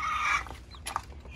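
A hen named Canela and her newly hatched chicks: a sustained high peeping call opens, then a few short clucks follow close by, fairly quiet and without talk.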